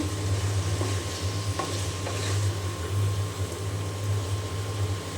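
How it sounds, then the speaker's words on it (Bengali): Vegetables frying in a pan being stirred, a steady low sizzle running throughout with faint scrapes of a spoon, close and even, no talking. "এখন খুব ভালো করে আমি নেড়ে চেড়ে"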